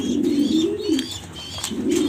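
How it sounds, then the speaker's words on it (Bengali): A racer pigeon hen, feeding grizzle racer squabs, gives soft low cooing calls close by, a few throaty rolling coos in succession with faint chirps behind. "মাদি কবুতরটা খুবই ভালো বাচ্চা খাওয়ায়"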